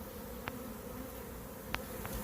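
Bees from a shaken-off swarm hum in a steady, faint drone, with a few brief louder passes as individual insects fly close.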